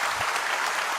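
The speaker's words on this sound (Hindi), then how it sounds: "ऐसे ताली बजाते हैं" Hand clapping during a Hindi religious discourse, a dense, steady patter of many palms with no clear gaps across the short moment.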